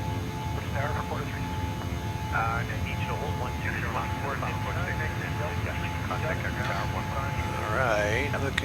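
Steady, broad jet engine roar from a Boeing 737-800 accelerating past 250 knots in Microsoft Flight Simulator 2020, a continuous loud drone with voices talking over it throughout.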